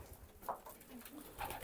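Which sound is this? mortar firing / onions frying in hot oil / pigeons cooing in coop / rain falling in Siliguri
pigeons cooing in coop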